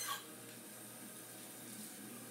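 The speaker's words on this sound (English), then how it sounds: "So I'm going to rinse those real quick." Water runs steadily from a tap over peppers being rinsed, a soft continuous splash heard close up and fairly quiet, with no one speaking.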